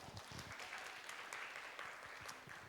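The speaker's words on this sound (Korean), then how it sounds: "박수 한번 쳐주세요" A church congregation clapping at a Korean worship service, a faint, steady patter of many hands heard from a distance and sustained for the whole stretch.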